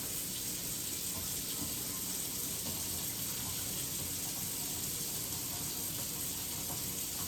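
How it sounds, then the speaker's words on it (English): Cold water runs steadily from a sink tap during instrument scrubbing, a constant even hiss and splash with no pauses. "start cold water in the sink, and start scrubbing my instrument"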